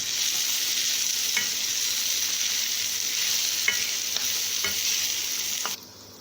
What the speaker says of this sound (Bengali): এগুলোকে আমি কালার আসা অবধি ভেজে নেব